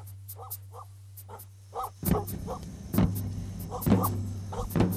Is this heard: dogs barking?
yes